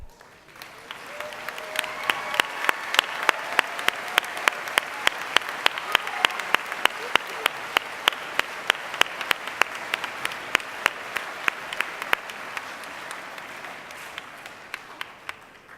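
At a high school convocation, the gathered crowd gives staff who wrote recommendation letters a long, full round of applause, dense clapping swelling in over the first seconds, holding steady with sharp individual claps, then slowly thinning toward the end.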